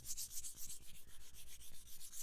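A leather edge is rubbed with 1000 grit sandpaper in quick back-and-forth strokes, a soft, faint, rhythmic scratching that sounds close with no voices.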